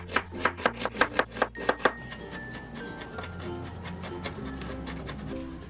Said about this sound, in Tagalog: Ihanda lang natin tong ating mga gulay na sangkap. Balatan lang natin ang mga ito at hiwain.